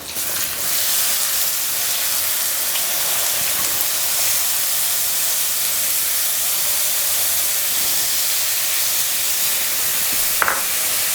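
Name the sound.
chopped onion added to hot pan, sizzling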